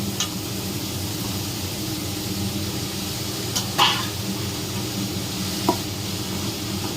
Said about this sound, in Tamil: நல்லா வதக்கிக்கணும் கொஞ்சம் நல்லா வதங்கணும்